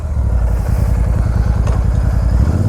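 Royal Enfield Super Meteor 650 motorcycle fitted with a Red Rooster aftermarket exhaust, running with a steady, deep, rhythmic thump that stays close and loud throughout, with no talk over it.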